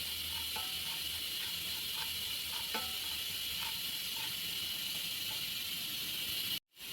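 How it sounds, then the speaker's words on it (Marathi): Poppy seeds dry roasting in a pan on the stove for a Maharashtrian amti, a steady soft hiss with scattered light crackles and pops, close and without talk. "आता यातच आपल्याला घालायचं आहे खसखस ते मी थोडीशी अगदी भाजून घ्यायची आहे"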